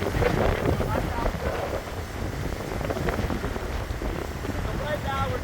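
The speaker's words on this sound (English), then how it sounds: "So right now we're getting a big wind. About 50 miles per hour." Strong hurricane wind gusting at about 50 miles per hour along a seawall during Hurricane Idalia in Florida, a loud continuous roar and buffeting on the microphone with surging gusts throughout.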